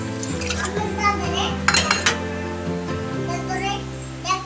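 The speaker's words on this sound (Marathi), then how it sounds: "चला घेऊन या भांडे धुवायला" Household pots and dishes are washed at home, bringing a brief burst of clattering metal knocks amid ongoing chatter from a child and an adult.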